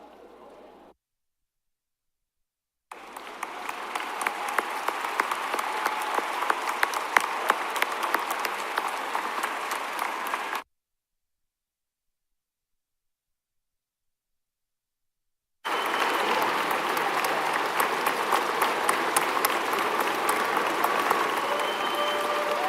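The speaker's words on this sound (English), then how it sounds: "You got a big applause, huh?" A large audience at a university commencement ceremony, at a military commissioning moment, breaks into sustained applause in two long bursts with a silent gap between them. The clapping is loud and even.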